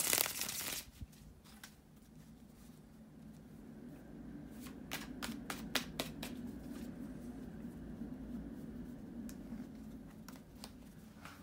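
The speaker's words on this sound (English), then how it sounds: "bear with me a second, guys, to shuffle the tarot cards" Soft, rapid riffling and flapping of tarot cards being shuffled up close, a brisk run of snaps midway, with no talking.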